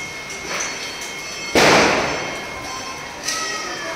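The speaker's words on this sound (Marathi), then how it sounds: "आजच मी माझ्या अंशू बाळाबरोबर एक फटाके लावत आहे." A single sharp firecracker bang bursts out and echoes away, followed by a smaller pop a moment later against a faint background hum.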